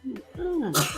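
A single sharp sneeze bursts out, with a brief voiced intake just before it, close and fairly loud.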